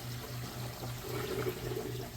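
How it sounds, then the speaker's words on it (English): A reef aquarium siphon drain catching and suddenly emptying the overflow all at once, a steady close gurgle and rush of water with rhythmic low pulsing throughout. "Now it's catching the siphon. And then boom. All empties out at once."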